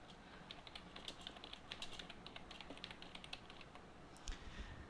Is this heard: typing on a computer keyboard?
yes